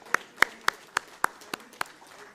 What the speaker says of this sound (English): Big round of applause for the best speakers of the night.